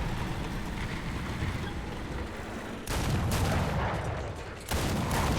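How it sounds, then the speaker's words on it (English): Artillery fire in the tank game War Thunder: a steady rumbling battlefield bed broken by two sudden loud bursts of explosive impact, each raising the din for a second or two. "Artillery fire's coming in."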